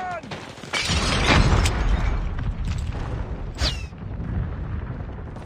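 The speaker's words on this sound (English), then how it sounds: "Grenade, run!" A grenade goes off in Call of Duty Mobile with a loud, close blast near the start. Rumbling debris and a sustained roar follow, then a second, smaller burst.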